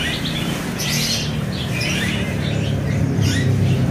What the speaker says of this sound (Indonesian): Di sini ada burung kolibri wulung gacoran ya